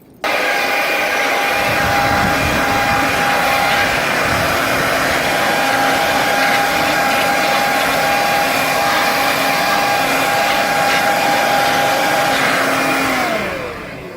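Steady blowing air rushing over an air conditioner filter to clear dust, a loud continuous whoosh with a whine that holds for about thirteen seconds and then winds down.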